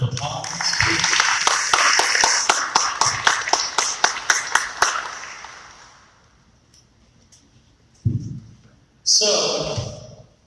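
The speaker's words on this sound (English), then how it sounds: "Can we give them a round of applause, please?" An audience claps for the organizers at a speaker series event, a brisk round of close, dense applause that thins into separate claps and fades, followed by brief noise.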